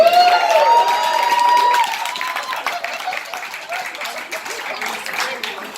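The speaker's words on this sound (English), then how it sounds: "another round of applause for Love and Please" Audience applause and cheering at a Halloween show, starting with a tonal sweep and then settling into steady, moderately loud clapping from a sizeable crowd, with some vocal noise mixed in.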